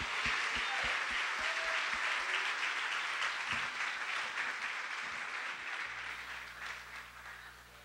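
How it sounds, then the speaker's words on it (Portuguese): A church congregation applauding during a leadership seminar opening, sustained dense clapping that slowly fades, with a few louder thumps early and a low tone entering near the end. "vamos aplaudir ao Espírito Santo"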